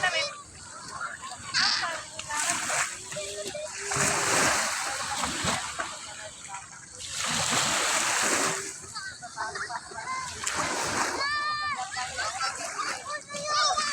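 Negro bathing outdoors, with bursts of splashing water that come and go beneath children's chatter and voices throughout.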